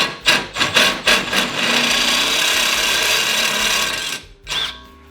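Step drill bit enlarging a hole in metal stock in a garage, with a few short grinding bites followed by a steady, loud whirring cut that stops and briefly restarts.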